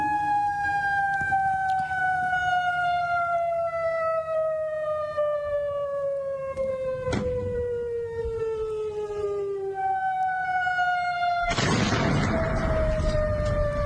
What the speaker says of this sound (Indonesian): Sirine peringatan pun kembali meraung di Yordania.